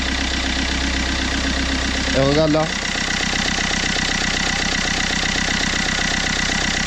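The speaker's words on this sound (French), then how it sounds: "le moteur il ne tenait pas en place sous le capot au ralenti." A Fiat Qubo 1.3 diesel engine idles steadily at close range with a loud, even rumbling clatter, while someone speaks briefly over it.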